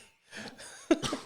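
A person coughs once sharply after a short breathy stretch, close and fairly quiet, with a softer follow-up burst.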